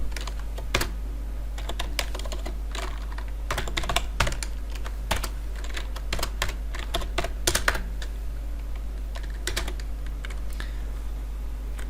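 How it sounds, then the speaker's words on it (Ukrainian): Steady keyboard typing while entering a variable for a math-expression program, a run of close, crisp key clicks with irregular rhythm and occasional louder presses over a constant low hum, no voices. "Уведемо нашу змінну А з клавіатури."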